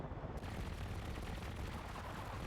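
A walking mech fires its guns in the building game Trailmakers, a dense, continuous roar of rapid gunfire filling the whole stretch at steady low volume with no pauses.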